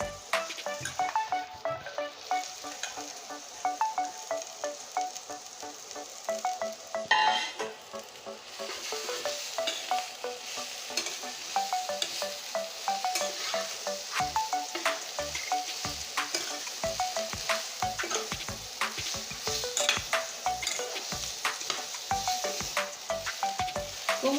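Water spinach dropped into frying potatoes in a pan, a close, loud oily sizzle with rhythmic scraping and stirring clicks running throughout.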